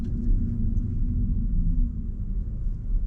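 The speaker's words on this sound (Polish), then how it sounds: "Taki delikatny dźwięk udawany silnika." Audi A6 e-tron Avant electric car playing its artificial engine sound, a low, soft, steady synthetic rumble heard continuously from inside the cabin with no other activity.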